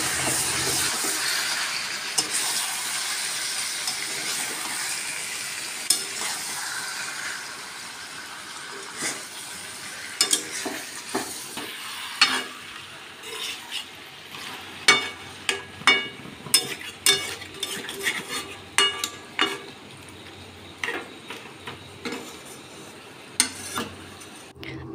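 Chicken being stirred and slowly fried down in oil in a pot gives a steady hiss of sizzling, broken by scattered scraping and clacking strokes of the spoon that grow busier and sharper toward the end.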